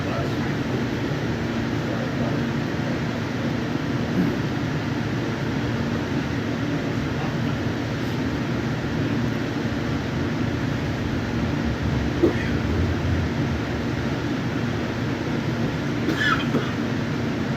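A train runs through steady rain, giving a continuous even rumble with rainfall hiss layered over it and a few faint clicks and squeaks along the way.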